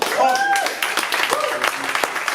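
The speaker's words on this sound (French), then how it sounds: "Je vous demande d'applaudir très très fort." Audience applause at a slam poetry night in a Cannes venue, a steady wash of clapping from a crowd lasting the whole stretch, with a brief tonal voice or note near the start.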